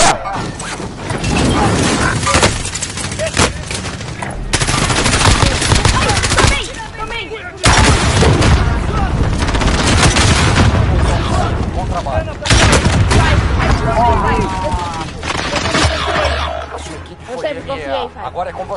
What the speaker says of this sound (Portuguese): Tô atirando, né, gente?